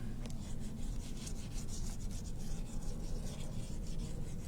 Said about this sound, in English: Squash that together and give that a little burnish down.